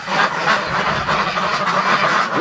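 Muscovy ducks quack and honk in a steady, overlapping chorus in extreme cold and frost, fairly close and continuous, with no talking.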